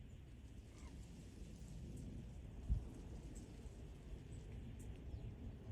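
Faint, steady patter of light rain outdoors at a carp fishing spot, a soft continuous hiss with low rumbling and one brief thud midway.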